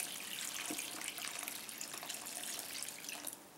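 A kitchen tap runs water into a lime soak for making crystallized candied sweets, a steady, close hiss and splash that continues throughout with no talking.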